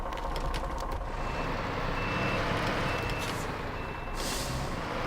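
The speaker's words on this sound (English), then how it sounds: "This one's louder than the 80, and I think it's a more normal backup alarm." Caterpillar CT381 truck in the video game SnowRunner, its backup alarm beeping amid a loud, steady engine rumble, with a hiss of air near the end.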